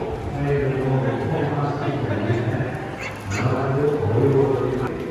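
Dog barking at a Korean dog show, a few short yaps amid the busy chatter of people talking nearby, fairly close and moderately loud.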